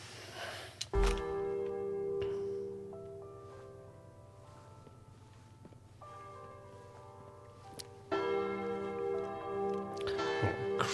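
A church bell tolls steadily in the World War II stealth shooter Sniper Elite: Resistance, its sustained ringing swelling twice amid faint in-game ambience, with no talk over it.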